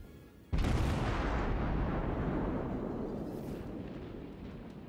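Heavy naval guns from a warship in World of Warships boom in one sudden loud blast, followed by a long rumbling decay that slowly fades, with no talk.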